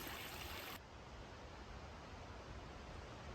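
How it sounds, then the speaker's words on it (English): A small creek flows along a hiking trail in Georgia, a steady broadband rush of running water heard close and continuous, with a louder burst at the very start before settling into an even wash. "Crossing a nice little creek right here"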